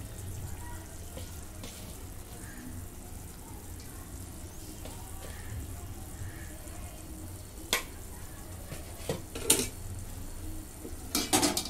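A pan of masala with crushed peanuts in it is stirred, giving soft scraping and light clinks of the utensil against the pan over a low sizzling bed, with a few sharper knocks near the end and no talking.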